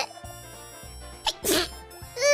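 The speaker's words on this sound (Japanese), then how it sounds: "くしゃみが出てます。" A single sharp sneeze from a young woman bursts out near the middle, loud and close, over a soft steady musical background.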